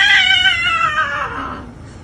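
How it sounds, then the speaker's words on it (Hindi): A cat meows loudly and insistently in one long, wavering, drawn-out yowl that slides downward and fades toward the end, heard alone with no talking. "तो ये बिल्ली को चुप कराओ पहले।"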